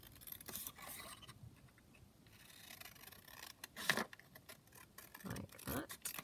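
Scissors snipping through colourful ephemera paper for a handmade junk journal, a few quiet crisp cuts and paper rustles, close and soft, no talking.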